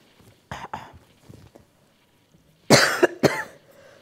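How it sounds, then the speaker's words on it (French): A woman with an allergy coughs: a couple of small, muffled coughs early on, then after a pause two louder, sharper coughs close to the microphone, with no speech. "à chaque fois, j'ai une petite toux"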